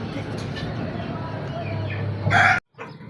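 A pet hen makes short clucking calls close by while a person talks over them, ending in a brief louder squawk.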